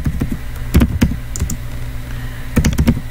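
Computer keyboard typing a username, a few quick clusters of close, crisp key clicks separated by brief pauses, with no talk.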